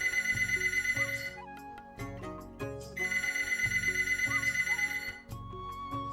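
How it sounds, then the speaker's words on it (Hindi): A telephone bell rings insistently in repeated trilling bursts, loud and close, with short pauses between rings and no talking. "इतनी दोपहर में कौन पक्षी फोन कर रहा है?"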